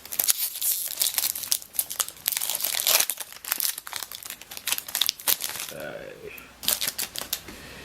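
Magic: The Gathering Fate Reforged booster pack foil wrapper torn open and handled, close, busy crinkling and crackling in rapid bursts throughout, with a brief voice partway through.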